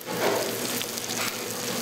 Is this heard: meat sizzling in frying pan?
yes